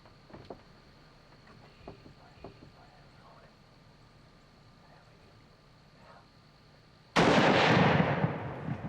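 A single loud rifle shot from a buck hunt breaks a quiet outdoor stretch near the end, sharp at onset with a long rumbling decay, after several seconds of faint ambient noise and a few soft knocks.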